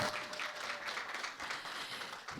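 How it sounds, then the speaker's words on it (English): An audience at a tourism expo launch claps for a competition winner, a brief, moderately loud burst of many hands that stays fairly even across the short stretch. "Can we just give him a round of applause again?"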